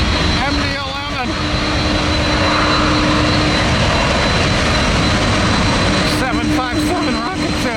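A Boeing 757 jet at Tampa airport gives a loud, steady roar close by that fills the whole stretch. Brief passing whooshes rise near the start and again toward the end.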